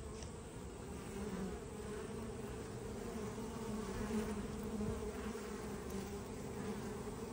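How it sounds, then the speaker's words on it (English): Honey bees buzz around a healthy beehive, a dense, steady hum of many insects close by, continuous throughout with no talking. "Looks like a good, healthy hive right here."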